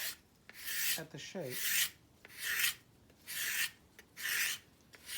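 A knife carves smooth shavings from a large wooden spoon. The rasping strokes come up close in an even rhythm of about five, with a faint word spoken at one point.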